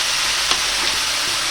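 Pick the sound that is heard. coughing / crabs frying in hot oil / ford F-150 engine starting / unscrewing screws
crabs frying in hot oil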